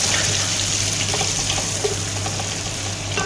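Water pours steadily into a cooking pot during mutton biryani preparation, a constant close rushing gush with a low hum beneath it and no talking.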